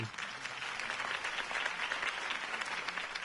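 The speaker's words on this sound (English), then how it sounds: "could have heard that applause" A crowd applauds steadily for a few seconds in Batman: The Telltale Series, a continuous patter of clapping heard at a modest distance.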